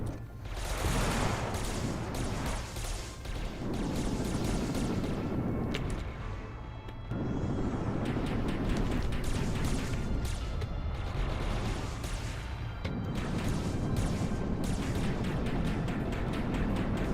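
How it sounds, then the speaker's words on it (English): Missiles fire in a space game built in Godot, giving a dense, continuous barrage of rapid synthetic blasts and booms that sounds loud and close, with short lulls between volleys. "The missiles are way too strong."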